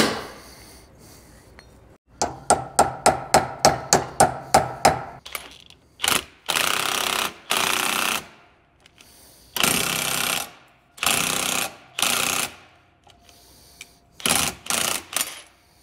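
A hammer drives a new U-joint into a vehicle axle shaft clamped in a vise, a rapid run of sharp metallic strikes followed by heavier, spaced ringing blows, close and loud with no talking.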